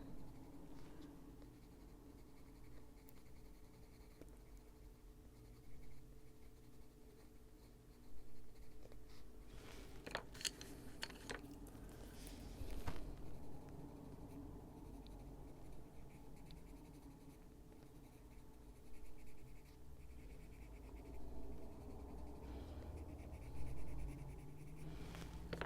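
Colored pencils scratching softly on paper while small leaves are filled in at the top of a page, a faint steady stroking texture with brief louder scribbles, close and quiet with no talk.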